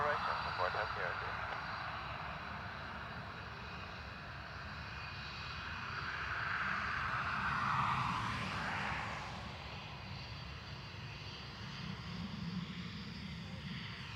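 Airliner taking off from runway 10 right at Dublin Airport: a steady, moderately distant engine roar that swells midway as the plane passes, then eases back, with voices talking over it.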